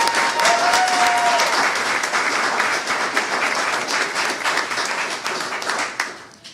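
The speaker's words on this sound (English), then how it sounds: "Let's give them a well-deserved round of applause." A crowd applauds loudly and steadily, the clapping slowly thinning and fading out at the end.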